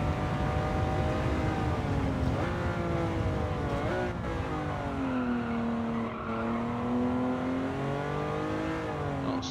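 Race car in Gran Turismo 7, a Miura P400 Prototype at Alsace, engine droning and pitch sweeping as the tyres slide through a corner, continuous and close with no talk.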